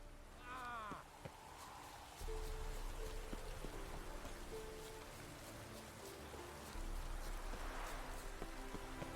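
Rain falls steadily in The Witcher 3: Wild Hunt, a soft continuous patter of drops hitting surfaces, with a brief chime at the start and faint game tones underneath.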